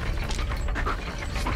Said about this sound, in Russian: Мост опущу сразу.